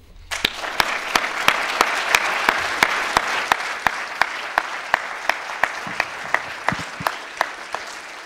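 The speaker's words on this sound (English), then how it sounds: "I think he deserves our applause" Sustained audience applause at a banking federation event in Brussels, dense steady clapping from a large crowd with a few sharper claps standing out, fading slightly toward the end.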